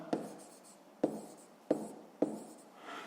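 A pen jots down the answer in a fifth-grade math solution, four crisp scratching strokes at a steady, unhurried pace, close to the microphone and faint, with no talk.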